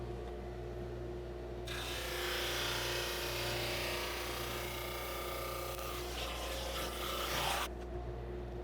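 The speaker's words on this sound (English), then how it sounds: "I can turn it around and sand again and just keep turning it as I sand." A segmented wood ring is sanded flat on a plywood jig, giving a steady close rasping rub that lasts about six seconds over a low hum.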